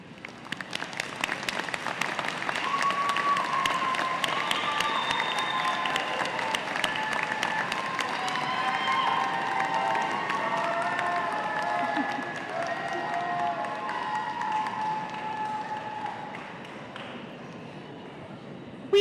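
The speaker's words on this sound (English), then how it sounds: "give them a round of applause to show your appreciation" Sustained applause from a large crowd at a college commencement, dense clapping with some cheering, loud and steady before tapering off near the end.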